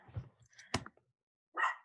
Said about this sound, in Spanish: perdón por mi perro